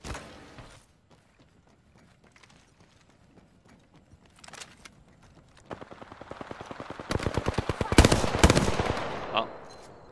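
Weapon fire in the video game Apex Legends: scattered single shots and short bursts at first, building into rapid, loud automatic gunfire in the second half, with a faint voice at moments.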